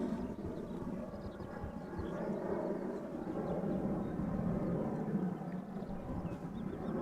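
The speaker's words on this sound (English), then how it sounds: "you're hearing a Boeing 737-900 from KLM that just took off from runway 24" A KLM Boeing 737-900 takes off from runway 24 at Amsterdam Schiphol, heard as a steady, distant low jet rumble that swells slightly midway and holds throughout.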